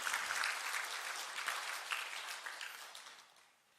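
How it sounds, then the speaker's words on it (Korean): A church congregation at a Sunday service claps together in a dense, sustained burst of applause that fades toward the end, fairly near and filling the room. "박수로 한번 하나님께 영광을 한번 돌려볼까요?"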